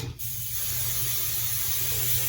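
A continuous close-up hiss of hair spray runs steadily for the whole clip after a brief click at the start.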